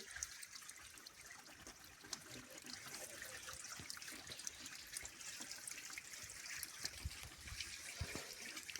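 Water in a well trickles and splashes steadily with a bright, hissing wash, continuous for the whole stretch and fairly close, with no voices.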